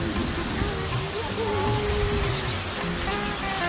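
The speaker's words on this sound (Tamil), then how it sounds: "கொஞ்ச நேரம் மழை விடுற மாதிரி இருக்கு, அப்புறம் திருப்பி பெய்யுது" Steady rain falls on a farm in a dense, continuous wash of broadband hiss, with faint tonal sounds running underneath throughout.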